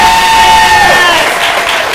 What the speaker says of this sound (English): could you just give me like a cheer?